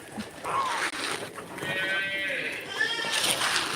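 Farm animals, including goats, hens, ducks and pigeons, feeding together, with nearby bleating and animal calls over a steady background.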